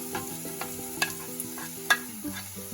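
Onions dropped into garlic and ginger frying in a pan for a prawn curry, with a soft sizzle, light stirring and a couple of sharp clicks of a utensil over a constant background hum.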